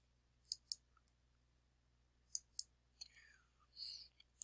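Computer mouse clicks in a quiet room, two quick double clicks spaced apart, then a few faint scrapes and one more click at the end.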